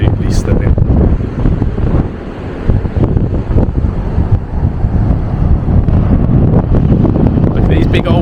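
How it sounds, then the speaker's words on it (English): Choppy sea surf at Winterton-on-Sea beach, with strong wind buffeting the microphone and a steady roar of waves close by, while a person talks over the blustery noise. "Look at these big old waves."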